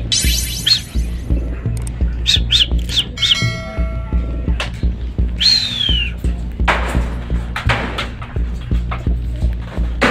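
A bird of prey perched on a chicken coop roof gives several sharp, squealing calls, with a strong steady hum and throbbing machine drone running underneath throughout.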